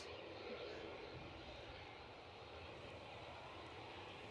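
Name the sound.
aircraft departing Edinburgh airport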